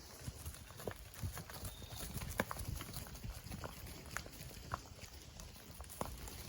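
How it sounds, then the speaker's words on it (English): Cows being moved on a farm walk along, with soft, scattered hoof thuds and shuffling heard faint and distant over a low outdoor rumble. "I'm gonna go move cows right quick"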